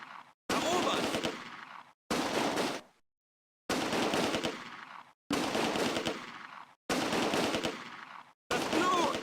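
Machine gun fire in the WWII strategy game Close Combat: A Bridge Too Far, six loud sustained bursts of rapid automatic shots separated by short silences, fairly close.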